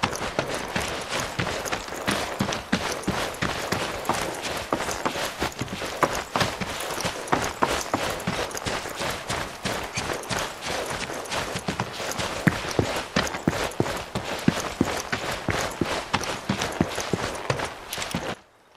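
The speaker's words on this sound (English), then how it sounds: "I want you guys to listen to the footsteps of what it sounds like as Cloud's walking around here" Rapid, evenly spaced footfalls of Cloud walking over varied ground in the video game Final Fantasy 7 Rebirth, a steady crisp patter running continuously and fairly loud with no talking over it.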